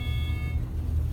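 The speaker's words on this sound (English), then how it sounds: "Got a weird floor passing chime. Sounds like a computer." A Westinghouse/Marshall/Schindler elevator at a Pittsburgh hospital sounds an electronic, computer-like floor-passing chime: a thin, steady high tone over the low hum of the moving cab.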